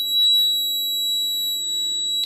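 A Honeywell home alarm system sounds a steady, loud, high-pitched electronic tone after a back kitchen window is opened, holding constant the whole time before a brief change at the end.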